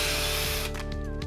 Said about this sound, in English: Now I'm just drilling holes through my